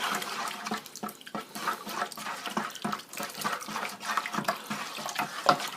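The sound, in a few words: stirring wine kit mixture in fermenter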